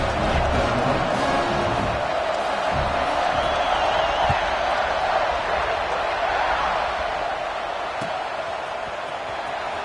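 Steady roar of a stadium crowd cheering at a football video game kickoff, loud and continuous throughout with no clear breaks, a dense wash of voices filling the whole stretch.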